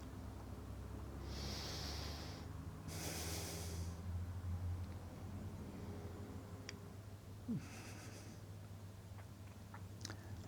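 Deep, slow breaths of breathwork meditation come as a few soft, airy bursts close by, with a faint nasal snort, over a low steady hum.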